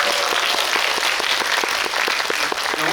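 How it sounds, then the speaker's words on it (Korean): A cinema audience at a guest visit event gives loud, dense applause, with many hands clapping together in a steady roar that fills the whole moment. "오늘 근데 박수 한번 부탁드리겠습니다."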